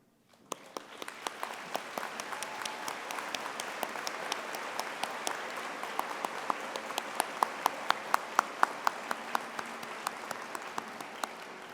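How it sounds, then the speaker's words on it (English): A commencement ceremony audience breaks into applause, starting abruptly and building to a steady, moderately distant wash of many hands, with sharper individual claps standing out and a few faint cheers. "please rise and be recognized for a round of applause."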